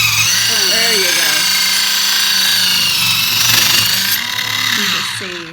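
Swifty Sharp motorized knife sharpener grinding a knife blade, a close buzzing whine and rasping metal contact that holds steady then eases off near the end, with a voice speaking over it briefly.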